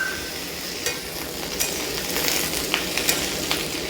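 Chopped tomato hitting a pan of frying vegetables and onion, a continuous sizzle with brief scraping and clinking as the mixture is stirred, heard close.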